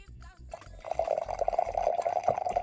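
Hot water poured into miso paste with mirin and soy sauce for a miso soup base, a steady close liquid stream running for a couple of seconds after a brief clatter.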